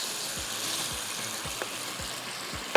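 Minced meat fries in a karahi with a low steady sizzle, while a spoon scrapes in a regular rhythm of soft strokes and gives one sharp clack at the end. The sound is close, moderate in level, and no one speaks.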